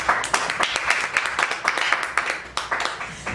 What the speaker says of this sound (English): A round of applause for our sister,